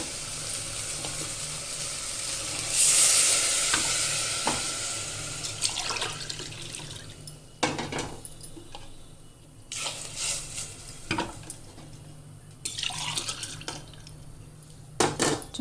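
Coconut milk is poured from a glass into rice in a cooking pot, giving a steady liquid rush with a few clinks and knocks of the glass and pot. Several short splashy bursts follow, close and fairly loud.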